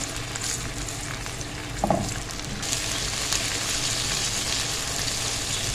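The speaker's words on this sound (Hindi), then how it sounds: "इसमें डालेंगे अदरक लहसुन। थोड़ा सा हम इसको भूनेंगे" Ginger and garlic fry in a pan for a dhaba-style eggplant dish, a continuous close sizzle that swells louder partway through, with a single knock of a stirring spoon before it.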